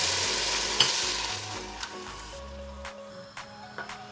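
Carrots sauté with softened onions in a pot for barley vermicelli soup, giving a gentle sizzle that fades while a spatula clicks and scrapes against the pan several times.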